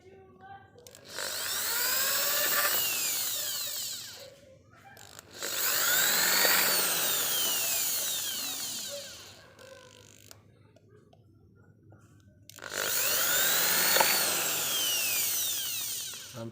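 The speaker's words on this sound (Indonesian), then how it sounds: "Nah begini, kita bor satu-satu dulu ya." A power drill bores into wood in three long, loud bursts, each several seconds long, with a whining motor pitch that rises and falls and short quiet gaps between them.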